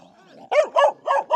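A feisty little puppy lets out four quick, close, high-pitched barks in a steady rhythm after a softer whine, with no one talking.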